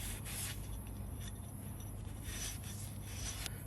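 Steady abrasive rubbing as the seal contact surface of a Chevrolet Cruze engine is cleaned up during a head gasket job, a continuous close scraping rasp with no pauses.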